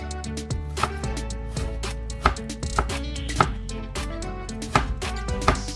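A knife slices beef into steaks on a cutting board, close and steady, with repeated sharp chops and taps landing at an uneven rhythm, no voices.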